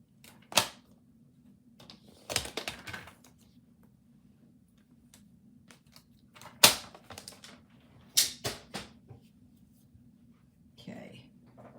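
Paper being trimmed down to size for a handmade lavender card, with several short, sharp scraping cuts in separate bursts over a quiet steady background hum.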